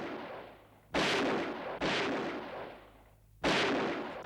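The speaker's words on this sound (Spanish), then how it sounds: "Las fuerzas de orden público son recibidas a tiros." Gunfire from an archival Spanish Civil War documentary, three heavy, booming shots spaced about a second apart, each ringing out with a long rumbling decay.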